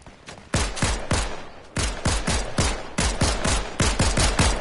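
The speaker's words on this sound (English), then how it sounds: "What are you shooting at, fool?" Rapid, loud automatic gunfire from a PS4 shooter game, a close and sustained stream of sharp shots in several bursts with hardly any pause between them.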